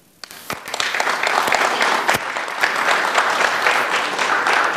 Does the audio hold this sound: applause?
yes